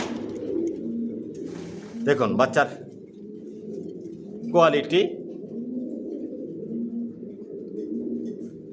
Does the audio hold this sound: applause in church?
no